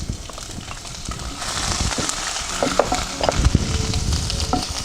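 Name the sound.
crushed ginger and garlic frying in hot oil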